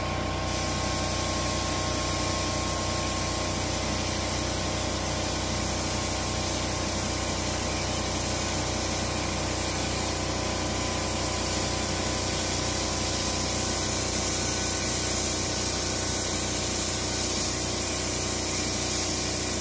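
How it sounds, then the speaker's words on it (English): Airbrush spraying onto a hand-tooled leather tank bib, a steady close hiss of air and paint that runs without a break from start to finish, loud and even, with no talking. "I'm laying in a little bit of airbrush."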